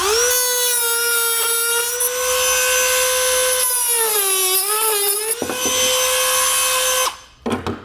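A power tool trims the lip of the rear bumper fascia on a 2021 Volvo XC40 during a trailer hitch installation, giving a loud, close, steady high-pitched whine that wavers in pitch before cutting off.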